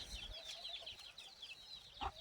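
Soft clucks from free-range country hens and chirping peeps from their chicks in a farmyard flock, with one louder cluck near the end.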